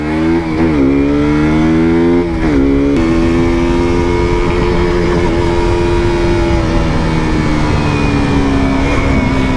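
A KTM RC 125 motorcycle engine runs steadily while riding, its harmonic drone rising at the start, easing off, then climbing again and holding at a constant loud pitch with no talk over it.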